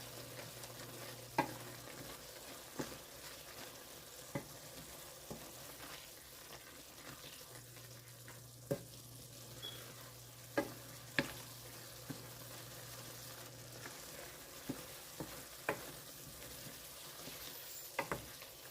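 Apples with cinnamon and nutmeg sizzle quietly in a pan while a utensil scrapes and taps against it now and then as it is stirred.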